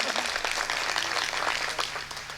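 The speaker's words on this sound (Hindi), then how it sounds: "ताली बजाइए, एनर्जी मिलती है" Audience applause at a Hindi comedy poetry event, a dense continuous clapping from a crowd that stays loud and even throughout.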